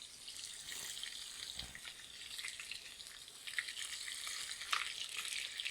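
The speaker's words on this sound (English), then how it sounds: "I like to saute the fish a little bit to get a little bit of color on the fish" Fish pieces sautéing in a pan for a coconut milk seafood stew, a steady close hissing sizzle with small crackles and spits throughout, no talk over it.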